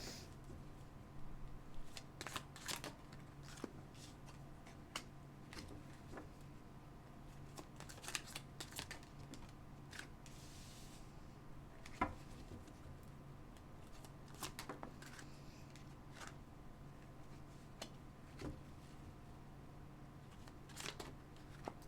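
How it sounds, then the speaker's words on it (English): Tarot cards are shuffled quietly and repeatedly, soft riffling and snapping bursts at an irregular pace with faint room hum, no talking. "If you do not like the shuffling or you don't like the whatever, just fast forward a little bit"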